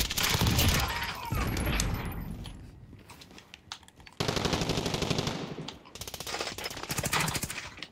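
Gunfire from Call of Duty: Modern Warfare in a Search and Destroy match with an MP7, heard as rapid automatic bursts and sharp cracks that stop and restart, loud and close.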